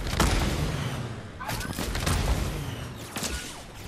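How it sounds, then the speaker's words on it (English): Gunshots in the battle royale game Fortnite, several sharp cracks fired in a few separate bursts from a distance across a hillside, loud and echoing over a low background rumble. "Where are these shots coming from?"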